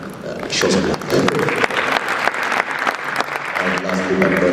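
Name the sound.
audience applause for panelist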